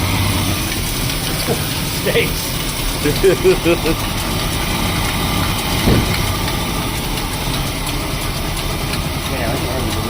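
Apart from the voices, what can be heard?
old Mopar barn find car engine idling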